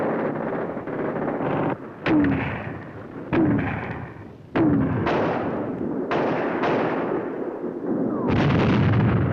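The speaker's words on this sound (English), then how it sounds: "We listened while a barrage of mortars and mountain guns softened them up first." A wartime barrage of mortars and mountain guns fired by the Australian Army: a continuous loud roar of blasts, with sharp booming reports recurring every second or two and rolling rumble between them.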